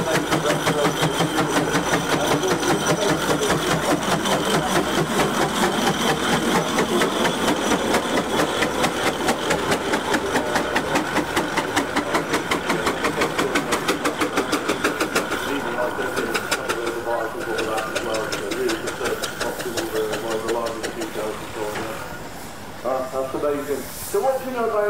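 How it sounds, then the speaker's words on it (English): An 1893 London South Western Railway steam road locomotive with a solid flywheel runs, its rapid rhythmic chuffing and hiss steady and close, under continuous talk that continues as the engine sound eases toward the end. "The lovely little road locomotive there with the solid flywheel."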